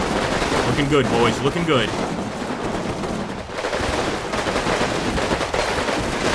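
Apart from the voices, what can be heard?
gunfire from the video game Combat Mission: Final Blitzkrieg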